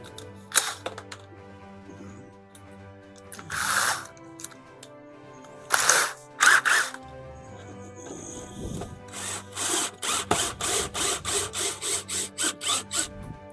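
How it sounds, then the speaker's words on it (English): A screw is worked into the floor of a Mellor bus during a camper conversion: scattered scraping bursts, then a run of about a dozen quick, even rasping strokes close up, with no talking. "I'm going to put a screw in to hold it to the floor"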